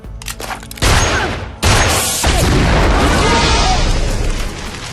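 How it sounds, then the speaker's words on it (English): A loud explosion in a movie action scene as a shot barrel blows up, with a sudden heavy boom followed by a long roaring blast and debris rumble that trails on for several seconds. "He shoots a barrel, blows everyone up."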